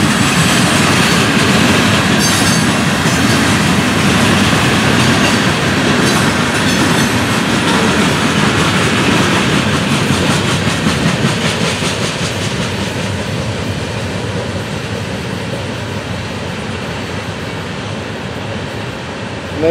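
Florida East Coast freight train with lumber cars rolling past close by, loud continuous rumble with clickety-clack of wheels and occasional squeal, slowly fading toward the end.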